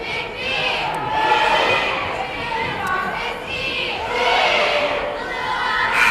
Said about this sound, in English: Cheerleaders are getting this big crowd here at Eveleth High School gym going into it a little bit more than they have been.